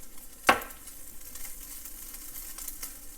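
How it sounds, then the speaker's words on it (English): Rice stir-fried with a pinch of za'atar seasoning in a pan, a sharp scrape or clatter near the start followed by a steady low sizzle and faint stirring, alone without talk. "I'm just kind of stir fry this for a minute or so to get my rice heated up"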